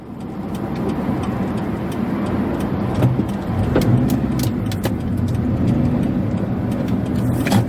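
Car engine hums steadily from inside the cabin during a driving lesson, with engine pitch shifting around a change into second gear, under faint road noise and light clicks, with no voices.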